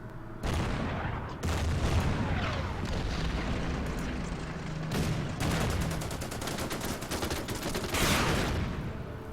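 Artillery firing in the Order of Battle strategy war game, a dense sustained barrage of booming blasts and rattling gunfire, loud and continuous with several heavier thumps.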